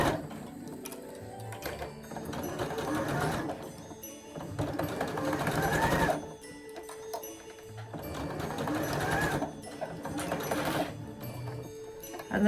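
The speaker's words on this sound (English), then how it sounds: "And then just sew all the way around till you get back to the beginning again." A sewing machine stitches a ruffle onto the top of a fabric stocking in steady rapid bursts, running for a couple of seconds, pausing briefly, then running again, close and fairly loud with no talking.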